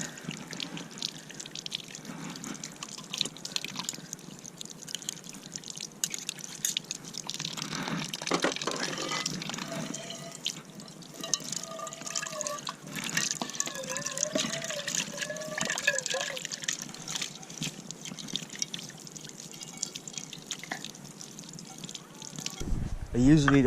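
Water runs and trickles while camping gear is washed off by a truck campsite, a quiet steady splashing stream with drips, partly under a voice talking.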